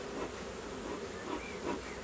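Honeybees buzz around an apiary hive during an inspection with a smoker, a dense, close, continuous hum with slight swells in loudness and no speech.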